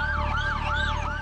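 Ambulance siren arriving at a night accident scene on a city street where a motorcycle struck a pedestrian, wailing in steady rising and falling sweeps, loud and close, with a low engine hum beneath and no talking.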